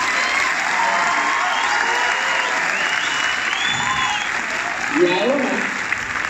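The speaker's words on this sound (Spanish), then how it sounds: "Si vas a dar un fuerte aplauso," Audience at a motivational conference on the value of life breaking into strong applause and some shouting, sustained and crowd-wide, with a voice speaking over the clapping.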